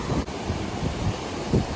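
A river rushes loudly in Glen Etive, a dense steady roar of flowing water with wind buffeting the microphone, continuous and close, with no voices.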